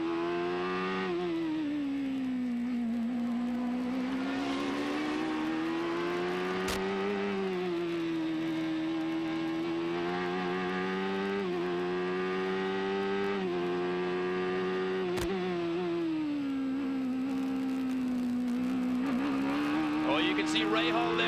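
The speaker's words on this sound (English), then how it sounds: "listen to Bobby Rahal as he moves through the gears and around Laguna Seca." A 1992 IndyCar race car driven around Laguna Seca, its engine whining loudly and steadily, pitch sweeping up through each gear before dropping sharply at every shift, with several upshifts and downshifts across a long continuous run.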